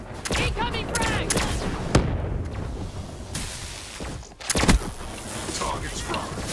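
A frag grenade explosion and gunfire in Black Ops 3, with sharp gunshot cracks and a heavier burst near the end over dense battle noise, while voices call out over it.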